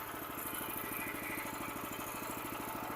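A petrol engine on a walk-behind machine runs steadily, a close, loud, even chugging putter that holds constant throughout with no talk.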